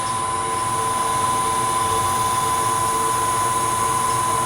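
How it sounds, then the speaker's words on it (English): Steel wool presses against a spinning redwood burl turning on a lathe, giving a steady, even whir and faint hiss that carry on without break, with no talking. "I can see the steel wool pulling that sawdust right off the surface"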